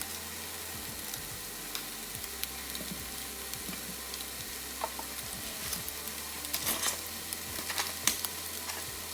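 Chopped onion sizzles steadily in a hot pan for a spaghetti-with-vegetables dish, a continuous close frying hiss with occasional pops and stirring scrapes, no talking.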